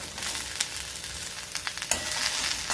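Carrots sizzle as they sauté with onion and curry leaves, a steady broadband frying hiss with a few sharper stir scrapes, close and fairly loud throughout.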